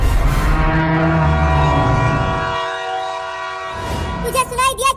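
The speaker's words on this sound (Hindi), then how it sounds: "ट्रेन आ रही है, अभी अभी वो सीटी मारी" A train rolls past, blowing its horn in long, loud, sustained blasts close by over the rumble of the wheels, then the horn fades and the sound turns warbling toward the end.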